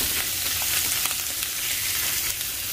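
Pork belly browning in a frying pan, a steady close hiss of sizzling fat running evenly throughout with faint stirring clicks and no talk.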